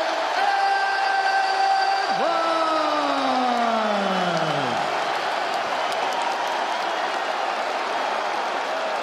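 A UFC 286 arena crowd applauds and cheers their champion, a broad, sustained roar with rising and falling whoops sweeping across it in the first few seconds before settling into steady applause.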